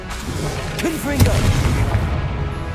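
Confringo fire spell exploding in the Hogwarts Legacy video game: a deep boom with crackling bursts close up, and a voice calling out over the blasts.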